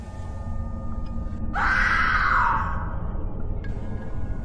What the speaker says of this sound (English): A blood-chilling scream came from outside